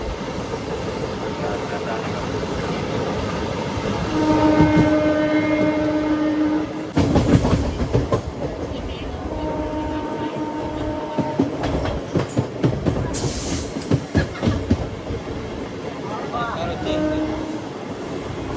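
A MEMU passenger train runs from Bhimavaram Junction to Nidadavolu, a loud continuous rumble with rhythmic clickety-clack of wheels over rail joints and a sustained horn blast, heard close from on board.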